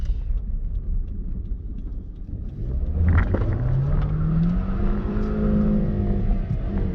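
A 2003 Toyota Yaris TS with a 1.5-litre 105 hp VVT-i engine accelerates hard, a low rumble building into a rising engine roar that climbs through the gears, heard from inside the car.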